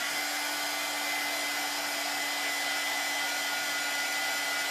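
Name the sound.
hair dryer blow-drying a craft project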